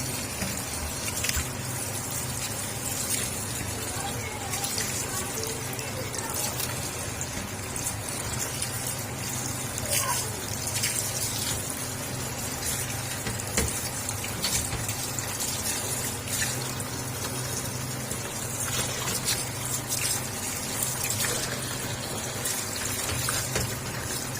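Bitter gourds are lifted one or two at a time out of a vessel of water into a basket, with soft, continuous sloshing and dripping water, faint and close, with no talking.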